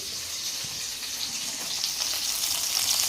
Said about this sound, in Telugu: దీంట్లోకైతే కొంచెం తెల్లగడ్డలు వేసుకుంటాను.